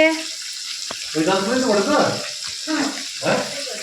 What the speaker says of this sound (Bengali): মা এখন এখানে কাপড় টাপড় কাচ্ছে